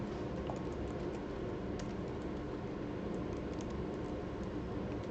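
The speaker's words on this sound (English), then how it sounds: "I'll try to keep typing while that's going." Keys clatter on a computer keyboard in steady, continuous typing, close and fairly quiet, over a constant background hiss with no voices.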